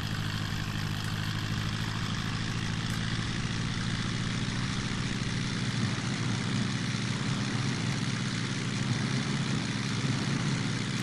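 Steady, loud aircraft engine drone during a takeoff roll in the Prepar3d flight simulator, a constant propeller-and-engine roar with a low rumbling hum that holds unchanged throughout.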